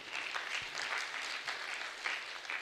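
Dinner guests at a medical school finalist dinner clap together in a steady, dense patter that stays fairly quiet and even from start to finish, with no voices on top.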